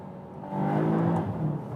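A Volkswagen Arteon R engine drops straight down to first gear, rising from a low hum into a louder, fuller rev with a harmonic engine note that holds for about a second.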